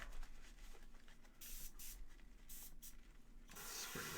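An airbrush sprays paint onto a McFarlane Toys Hellblaster Primaris marine figure, giving a steady close hiss that comes in short bursts and then runs on without a break.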